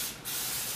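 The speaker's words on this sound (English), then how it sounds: "we'll spray that with a little bit of vegetable oil so nothing sticks" Vegetable oil sprayed from a can into a springform pan: one continuous close, loud hissing burst that begins after a brief dip and runs to the end.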